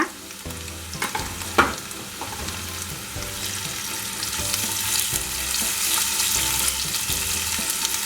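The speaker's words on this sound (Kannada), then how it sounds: "ಸ್ವಲ್ಪ ಏನೋ ಆಯಿಲ್ನಲ್ಲಿ ಈ ಥರ ಫ್ರೈ ಮಾಡ್ಕೊಂಬಿಡಿ" Baby potatoes with ginger garlic paste fry in hot oil in a pan, giving a steady sizzle that builds and holds, broken by a few sharp clinks and stirring knocks early on.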